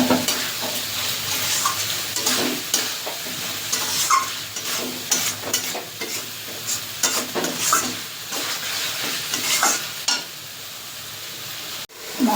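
Spice masala with Kashmiri chilli being stir-fried with fried potatoes for a fish dish, a continuous sizzle with frequent scraping strokes of a spatula, close up, ending in a sharp knock.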